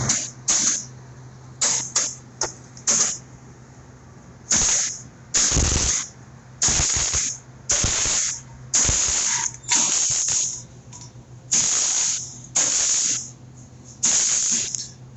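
Bursts of arc welding on thin metal, stitch-welding a broken feeder: a dozen short crackling, hissing runs of one to two seconds each with brief pauses between, steady and fairly close.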